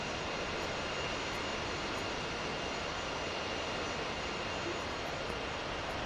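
Steady, loud jet engine roar of an F/A-18 in the DCS flight simulator game, a continuous broadband rush with a faint high whine holding evenly throughout, with no talk over it.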